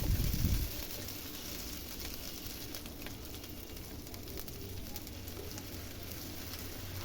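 Chopped onion and green chili frying in a pan give off a steady, even sizzle throughout, opening with a brief louder rustle as they are stirred.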